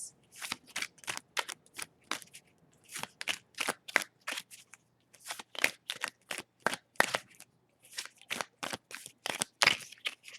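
A deck of tarot cards is shuffled repeatedly, each riffle a crisp burst of papery flutter, coming in quick clustered runs with short pauses, close and clear with no talking.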